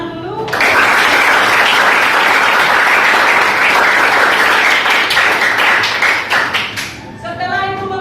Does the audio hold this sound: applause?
yes